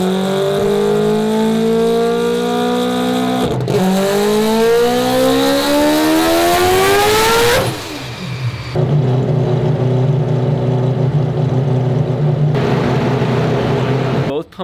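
Billet four-rotor Mazda RX-7 engine screaming through a boosted dyno pull at about 18 psi, revs sweeping steadily upward for several seconds, cutting off sharply, then settling into a loud, rough steady drone.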